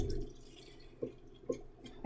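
Thick macaroni and cheese mixture is poured into a baking dish for a Barbados macaroni pie, giving soft, wet plops and splats at a steady interval over a low background murmur.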